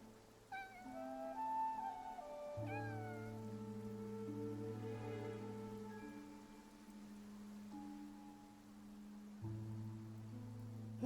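A cat in the video game Infinity Nikki gives a couple of short rising meows, close and clear, over soft sustained game music with a faint rain-like patter.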